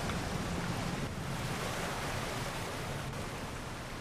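Steady broadband rush of released water flowing in God of War Ragnarok, a continuous dense wash like surf or rapids, loud and constant throughout with no voices.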